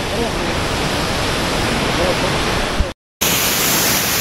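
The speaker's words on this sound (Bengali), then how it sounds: "তো জাস্ট এই হচ্ছে সেই ঝর্ণা" The Wah Kaba waterfall near Sohra, Meghalaya, rushes in a dense, steady roar that fills the whole clip, broken only by a brief dropout to silence shortly before the end.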